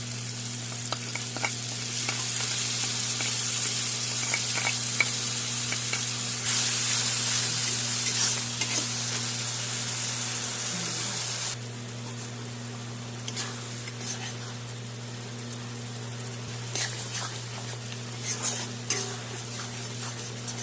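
Masala of ginger, garlic, tomato, yogurt and ground spices sizzling loudly in a pan for a palak egg curry, a steady frying hiss that drops partway through, with occasional stirring scrapes over a low hum.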